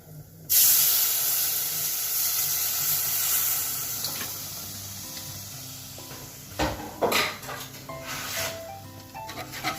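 Milk poured into a hot butter-flour roux for a Mornay sauce, off the heat, for a leek gratin: a sudden loud hissing sizzle that fades gradually, followed by a few stirring clatters near the end.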